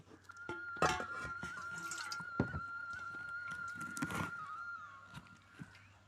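Water poured into an aluminium cooking pot in a home kitchen where prawn and jackfruit curry are being prepared, giving a moderate trickling and splashing stream that rises in a few stronger bursts over a low steady hum.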